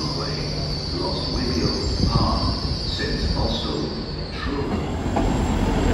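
A train at Exeter St Davids station, close and loud, with rumbling wheels and squealing rail noise that rises and falls over a steady roar.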